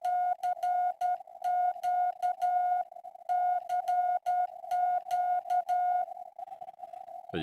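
CQ keyed in Morse code on a straight key, a steady sidetone beeping in dah-dit-dah-dit groupings of long and short tones, clear and close, repeated over several seconds with no talking.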